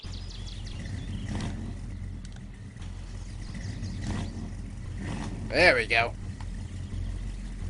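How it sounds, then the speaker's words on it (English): An old Ford work truck engine in Farming Simulator 22 cranks and catches with a low steady rumble that runs throughout, and someone speaks briefly near the end. "Let's see if Grandpa's old work truck will start up here."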